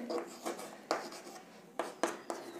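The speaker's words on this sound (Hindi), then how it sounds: "हम इसको लिखेंगे" Math is written on a board or paper: a close pen or chalk scratches in short strokes, with several sharp taps as it touches down, and no talking.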